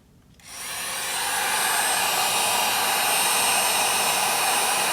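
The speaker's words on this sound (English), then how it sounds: "we'll use a heat gun this time. And then we'll just shrink wrap these guys together" A heat gun starts up and blows a steady, loud, close whooshing roar while shrinking heat-shrink tubing over pantry light wires, holding constant after a quick rise.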